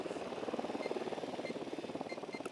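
A helicopter flies in Ghost Recon Wildlands, its rotor giving a faint, steady, rapid thumping pulse that holds at a distance with no talk.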